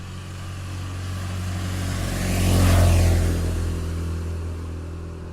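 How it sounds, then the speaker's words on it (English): A motorcycle passing by slowly: a low engine rumble swells gradually to a peak near the middle, then fades away as it moves off, with no one talking. "Here's a motorcycle passing by slowly."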